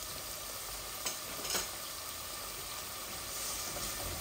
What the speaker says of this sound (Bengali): এখানে আমার মশলাটা ভাজা হচ্ছে